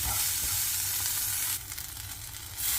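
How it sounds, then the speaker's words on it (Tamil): Chopped tomato sizzles and fries in a hot pan while cooking for ragi semiya upma, a constant close hiss that briefly softens as it is stirred. "ஆட் பண்ணிவிட்டு இந்த தக்காளி நல்லா சாஃப்ட் ஆகிற அளவுக்கு வதக்கிப்போம்."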